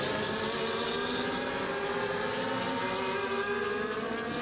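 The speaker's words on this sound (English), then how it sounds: "Hopefully you guys weren't missing out on the engine sound in the stream." A race car engine in a racing video game set at the Circuit of the Americas drones steadily at high revs, a continuous loud whine holding for several seconds with no talk.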